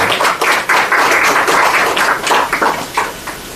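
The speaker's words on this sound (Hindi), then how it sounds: "हाँ, ताली बजाओ उनके लिए।" An audience claps together in a dense burst of applause, loud and close at first, then thinning toward the end.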